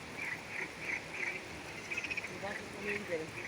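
Faint chorus of frogs croaking in repeated pulses against a quiet night background, with a soft murmur underneath.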